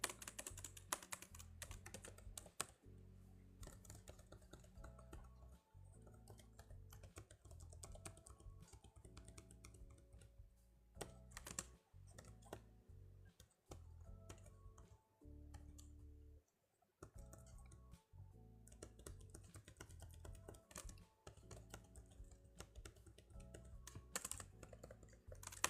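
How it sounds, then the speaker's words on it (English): Typing on a computer keyboard: a long run of quiet, uneven key clicks and taps with brief pauses between bursts, and no talking. "Can you hear my keyboard?"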